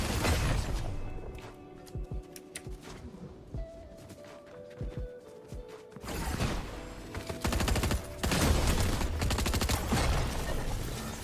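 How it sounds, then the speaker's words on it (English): Salvos of gunfire in the video game Fortnite, with bursts of rapid shots and sharp impacts that grow denser and louder in the second half, layered over game noise. "Let's give them a couple of salvos here."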